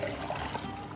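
Hot water poured into wholegrain and white flour for a large five-kilo batch of sourdough in Greece, a steady close splashing pour filling the whole moment without voices.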